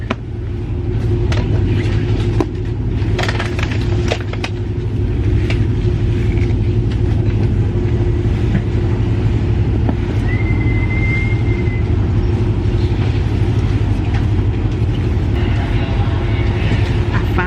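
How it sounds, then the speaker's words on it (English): Inside a moving Amtrak train, a constant low rumble with a steady hum and occasional faint squeaks and clatter, running throughout at even volume; a voice is faintly present. "Back on the Amtrak."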